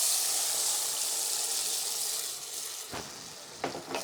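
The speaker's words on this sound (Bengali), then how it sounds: "এখন পরিমাণ মতো ঝোল দিয়ে দিব।" Broth is poured into a pabda fish curry with potatoes cooking in a pan, turning a loud steady sizzle into softer bubbling and splashing, with a few sharp clatters near the end.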